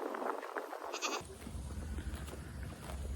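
Goats bleating in short calls over heavy, gusty wind noise, followed by a steady low rumble of wind against the microphone.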